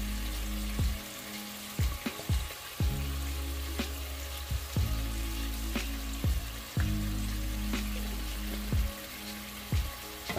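Minced garlic frying in a pot with okra, shrimp and sausage stew ingredients, a steady close sizzle interrupted by repeated sharp clunks and scraping from stirring.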